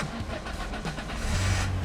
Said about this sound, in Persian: وای بعد از 1 سال ماشین روشن شد